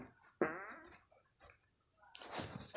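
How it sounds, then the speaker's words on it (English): A single fart from an animated character, sudden and buzzy, followed by a quieter stretch and then a longer rough, noisy burst near the end, with no speech. "Stop farting!"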